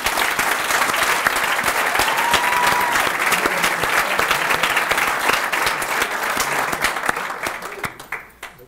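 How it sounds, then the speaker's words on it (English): An audience at a chamber's annual meeting applauds, thick sustained clapping that tapers off toward the end, with faint voices mixed in. "Let's give them a round of applause."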